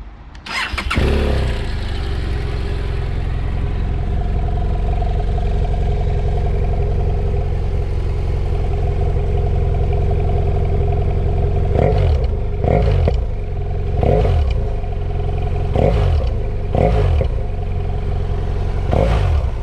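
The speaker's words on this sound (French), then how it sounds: "je vais vous montrer le son du pot d'échappement d'origine" A BMW F800GS motorcycle with its stock factory exhaust starts with a sharp crank and catch, settles into a loud steady idle, then gets several quick throttle blips that rise and fall near the end.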